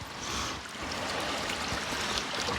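Mountain stream in the Adirondacks, water splashing and rushing over wet rocks in a steady broadband wash, close and continuous with no voices.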